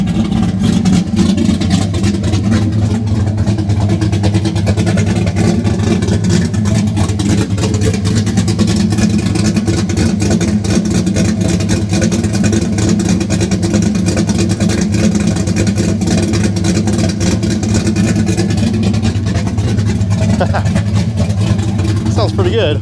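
Cammed LT1 Camaro engine running steadily and loud, a dense low rumble sustained for the whole stretch with no clear pauses, heavy and close.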